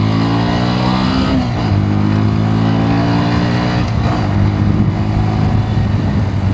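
A 2026 Bajaj Pulsar NS125 motorcycle accelerates hard from close by, its engine note climbing steadily in pitch, dropping briefly at two gear changes, then rising again, loud and continuous with no talk.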